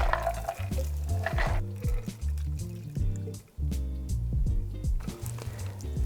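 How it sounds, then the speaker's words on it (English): A blackberry vodka cocktail, a Lemon Drop variation, is fine strained through a strainer into a coupe glass, pouring and dripping close up in a steady liquid stream over about six seconds, with a low rumbling background. "we are going to fine strain this because we want to keep out the chunks of ice crystals and of course the blackberry"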